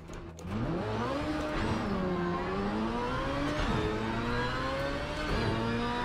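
A Ferrari engine in the racing game Project Cars 3 revs up and down repeatedly, pitch climbing through gears and dipping on shifts, a continuous whirring drone heard alone without any talk.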